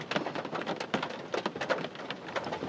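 Steady rain patters on surfaces at a campsite in a state park, a dense, close, continuous drumming of drops with no voices.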